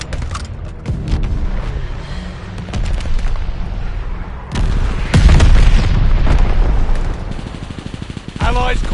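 Enemy bomber explosions in a video game, loud booms and blasts rolling across a busy battlefield with scattered gunfire, a big detonation cluster near the middle, game voice lines heard alongside.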